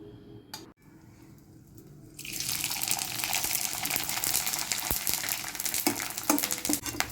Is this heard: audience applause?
no